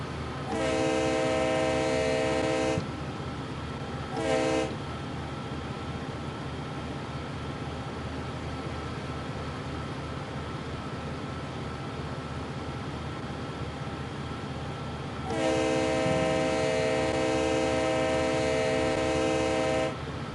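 A CSX SD40 locomotive hauls a freight train up the Sand Patch Grade in Train Sim World 3, its engine droning steadily while the horn sounds in two long blasts at the start and again later.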